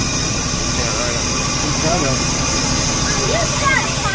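A motor home engine runs steadily at a constant, fairly loud drone, with people talking over it.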